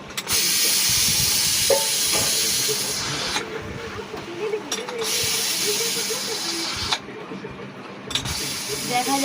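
Pressure cooker hissing steam over boiling eggs and potatoes, a steady broad hiss that runs throughout with brief dips and a few faint clanks and background sounds.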